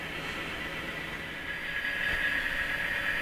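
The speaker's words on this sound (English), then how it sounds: "you can see the train moving, the top of level 3" Model train running along the top level of a multi-level model railway layout, a steady faint rolling hum with light wheel hiss and no talk, continuous for a few seconds.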